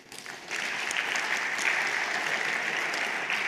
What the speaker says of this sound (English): The biggest round of applause for this entire team, please.